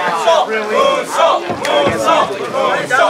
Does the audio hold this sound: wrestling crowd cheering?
yes